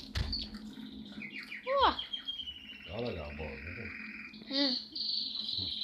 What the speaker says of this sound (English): That's an awesome bird.